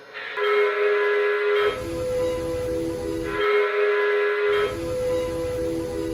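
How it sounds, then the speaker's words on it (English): A model steam locomotive whistle on a Lionel O-gauge Strasburg 89 steam engine sounds twice in long, even blasts, each followed by a breathy hiss of steam. "Am I allowed to say that the whistle sounds good?"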